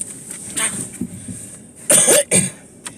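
A person coughs after eating, a few soft coughs and throat clearing early on, then two louder close bursts near the end, with no talking.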